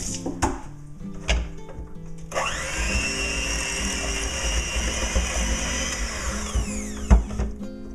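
An electric hand mixer whirs through cookie dough with eggs, starting after a few clattering knocks and then running as a steady loud buzzing drone with small bumps before winding down near the end.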